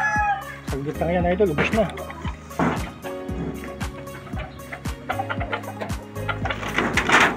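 Young stag chickens eating feed, with faint pecking and soft clucks beneath someone speaking close by.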